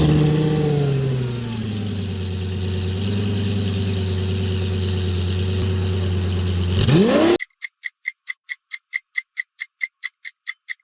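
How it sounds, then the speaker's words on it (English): Lamborghini supercar engine revving hard at a steady high pitch for about seven seconds, loud and close, then cutting off abruptly into a regular ticking clock-like pulse. "Aggressive supercar scream."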